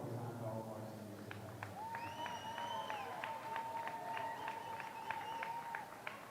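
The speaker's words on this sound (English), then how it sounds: "And so the crowd cheers on the seniors." Crowd at a Colorado State at Colorado men's Division I club hockey senior night cheering and clapping in a rink, with scattered claps over a steady roar and a sustained tone running through it.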